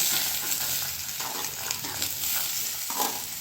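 Onions and Bangalore tomatoes sauté in a pan for tomato chutney, a close, steady sizzle with frequent scraping stirs of a spoon, no voices present.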